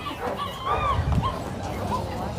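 Doberman Pinschers bark and yip at a distance amid outdoor flea market background noise, with a whimpering, whining tone mixed in.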